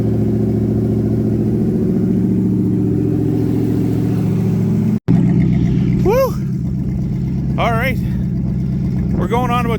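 An engine idles steadily with a loud low rumble, then after a brief cut its revs settle lower while a person talks over it.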